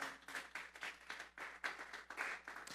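A church congregation claps in praise during a sermon, with rhythmic, quiet clapping in regular pulses, about four beats per second, soft and somewhat distant.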